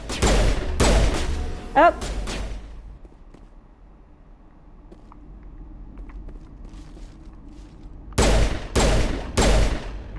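Gunfire in the video game Mass Effect comes in loud bursts of rapid shots at the start and again near the end, separated by a quieter stretch of ambient game sound, with a brief exclamation from a player.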